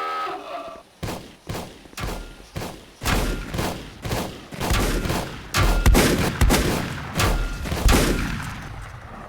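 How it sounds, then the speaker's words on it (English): Turret gunfire and shotgun buckshot blasts in the video game Volcanoids, a loud run of repeated, evenly spaced heavy shots that thicken into overlapping rapid fire toward the end. "the turrets took care of that guy, so I probably just wasted my buckshot"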